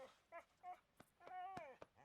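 A dog in the Red Dead Redemption 2 roleplay game whimpers and yips in short, high, wavering cries, several separate whines over about two seconds, faint and close, with no talk over them.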